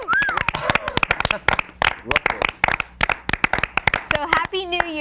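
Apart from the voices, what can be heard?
studio audience applause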